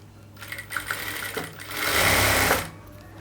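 A sewing machine runs in a short burst while stitching the side border of a piece of fabric. It starts with light intermittent whirring, then settles into a louder, steady, close-up mechanical hum for under a second before it stops.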